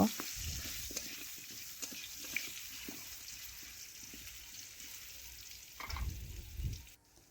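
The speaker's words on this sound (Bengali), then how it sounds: "সেগুলো এখন তেলের মধ্যে দিয়ে দিলাম দেব স্বাদ মতো লবণ ও পরিমাণ মতো হলুদ গুঁড়ো দিয়ে নাড়াচাড়া করে আলুগুলো আমি ভেজে নেব" Potato pieces fry in oil with salt and turmeric in a kadai, a continuous close sizzle broken by repeated spatula scrapes and stirring knocks, louder near the end, with no talking.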